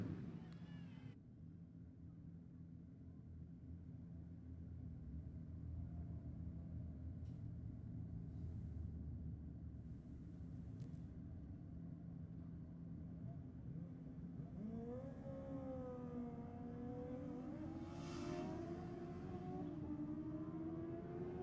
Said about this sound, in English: Sounds like a little bit of a slipping clutch.